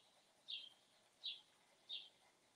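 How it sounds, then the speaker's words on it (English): Birds sing at early morning just before 6 a.m., heard as three short, faint chirps spaced evenly about three quarters of a second apart over quiet background hiss. "And my bird friends are singing all around."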